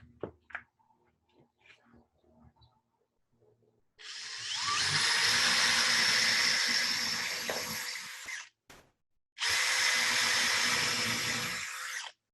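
A power drill bores into a wooden wave bowl in two sustained bursts, the first about four seconds and the second shorter, after faint clicks and handling noises.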